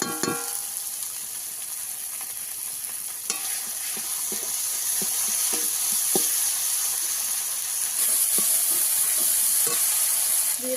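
Chili paste, turmeric and spices frying in oil for a Bengali mustard-oil fish curry, a steady bright sizzle with scattered clicks and scrapes of a spoon stirring the pan, close and alone with no talk.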